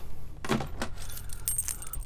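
Boat keys on a floating fob jangle close by in a few quick bright shakes, a metallic clinking over low background rumble.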